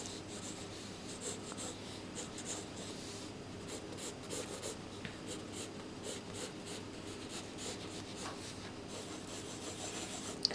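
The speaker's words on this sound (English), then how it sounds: "And then you just keep drawing more shapes." A pencil scratches across paper while shapes are drawn, close, quiet strokes in an irregular rhythm over a soft, low background hum, with no talking.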